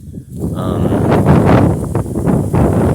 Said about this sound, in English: It's windy. It's a stormy day.